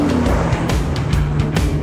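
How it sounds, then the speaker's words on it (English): A limousine with a 16-valve V8 engine races around a track, its engine roaring loudly and steadily from close by with rising and falling revs and hints of tire noise, heard alone. "it's got a 16 valve V8 engine in this thing."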